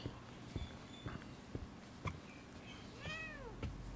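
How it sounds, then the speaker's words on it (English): Cat meowing in the video game The Medium, a single short rising-and-falling meow near the end, heard close over soft footsteps and quiet ambient noise. "Hello, cat."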